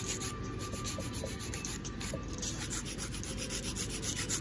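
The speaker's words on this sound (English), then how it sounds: "back in with my hand file, my 80 grit hand file" Rapid close rasping strokes of an 80 grit hand file shaping acrylic nails, a continuous gritty scratch with no talking.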